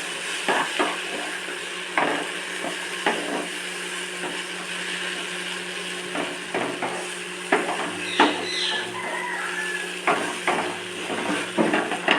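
Vegetables fry in a pot with panch phoron, bay leaf, dried chilli, salt and turmeric, giving a steady low sizzle broken by frequent spoon-stirring clatters and scrapes, with no talking.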